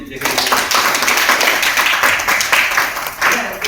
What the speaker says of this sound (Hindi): और एक बार ताली बजाओ उसके लिए